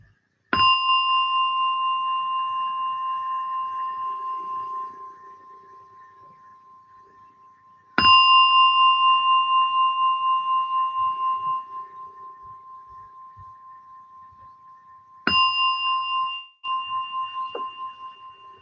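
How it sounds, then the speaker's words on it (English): Three strikes of a meditation gong ring out at a mindfulness session, each a clear metallic tone that lingers and slowly fades before the next, with a fourth strike cut short at the end. "as you hear the gong come out from meditation"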